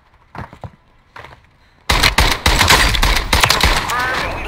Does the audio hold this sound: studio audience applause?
no